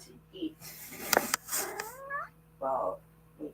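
A cat meows several times in a room during cleaning, with drawn-out whining calls and short mews spaced across the moment, fairly close, with faint background sounds between.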